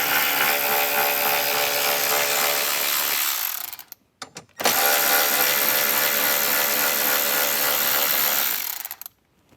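A power tool with a 10 mm socket drives out two bolts during a speaker upgrade on a 2024 Jeep Wrangler or Gladiator, two long loud buzzing runs close by separated by a brief pause.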